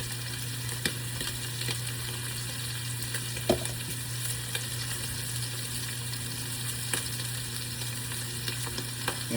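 Steak sears in a hot pan seasoned with chili pepper, a steady close sizzle and crackle running throughout with occasional light clinks and spatula taps, no one speaking.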